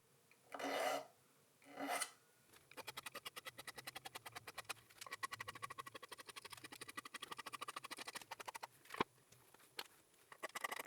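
Hand file rasping off the corners of fret ends on a custom multi-scale Strat-style guitar neck, two slow strokes followed by a long run of quick, rhythmic scraping strokes, close and quiet, no talking.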